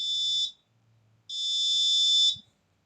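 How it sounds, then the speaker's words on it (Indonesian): A smart door lock buzzer rejects a wrong ID card, giving two shrill electronic beeps, a short one and then a longer one after a brief gap, clear and close. "kemudian buzzer berbunyi"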